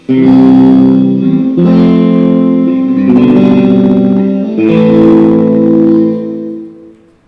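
A loud amplified instrument plays sustained chords with slight gain crunch and reverb, four strummed chords ringing out one after another and fading at the end, with no talking.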